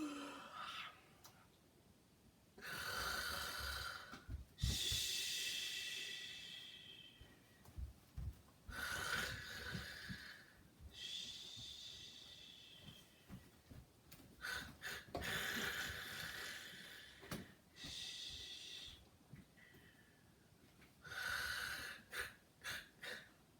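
A storyteller mimics a napping peddler's snoring with repeated loud, breathy snorts and wheezing inhales in slow, regular cycles, separated by quiet pauses.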